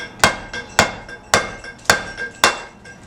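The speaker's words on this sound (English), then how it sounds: "The flat chisel is taking away the marks from the claw." Hammer strikes on a flat chisel carving stone by hand, five sharp evenly spaced metallic clinks about half a second apart, close and alone.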